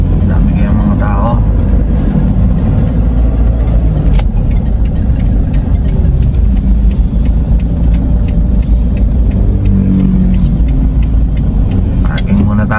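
A car driving in to park outside the LTO office in Taguig, its engine a loud, steady drone with some revving, heard from inside the cabin while people talk over it.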